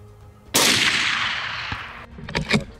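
A single loud rifle gunshot cracks during a hunt on an African safari, its boom decaying over more than a second, followed by a few fainter knocks and rustles.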